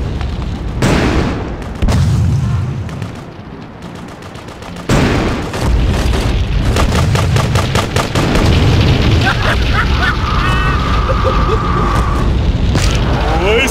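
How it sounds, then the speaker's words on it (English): Rocket launcher blasts in GTA2 multiplayer, loud booming explosions mixed with rapid gunfire bursts, dense and continuous with several sharp impacts and a ringing tone late on. "Rocket launcher!"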